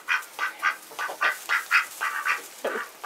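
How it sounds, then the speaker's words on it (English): A farmyard duck quacks in a quick series of about a dozen nasal calls, fairly close and clear, with no talking over it. "And here comes the duck."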